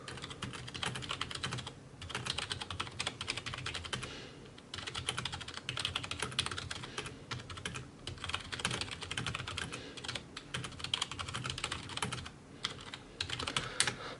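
Steady, rapid typing on a Perixx PX-1000 backlit gaming keyboard with soft, muted key clicks, continuous with short pauses, close and fairly quiet.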